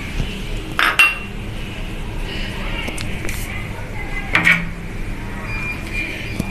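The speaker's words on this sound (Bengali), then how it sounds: "এখন এর ভেতর কাচকি মাছটা দিয়ে দিচ্ছি" Metal clinks and scrapes of a pan as small kachki fish are tipped onto chopped potato and eggplant, two sharp clatters among quieter handling noises, with a person talking through it.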